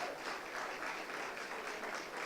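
A sports club's 100th anniversary banquet crowd claps for Roy White. The applause is steady and moderately loud, with no voices over it.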